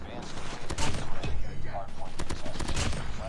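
The KN-44 assault rifle fires in rapid automatic bursts in the mobile shooter COD Mobile, with loud, close sharp cracks repeating in a quick rhythm over most of the stretch and brief gaps between bursts.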